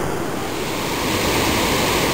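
The Bow River rapids just north of the falls in Banff National Park rush past as a loud, dense, unbroken roar of churning whitewater heard close up.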